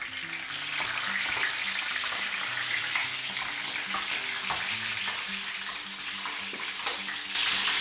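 Bell pepper sizzles in olive oil in a pan as the first step of a cuttlefish paella, a steady crackling fry with occasional stirring clatter, fairly close and uninterrupted by talk.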